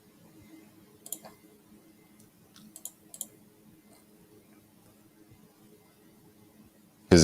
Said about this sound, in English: Maybe it was clicking on my little button thing here.